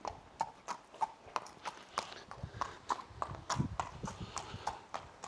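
A three-year-old colt's hooves clip-clop steadily as he is walked up a runway, a regular rhythm of close, crisp hoof strikes on a hard surface, with no talk over them.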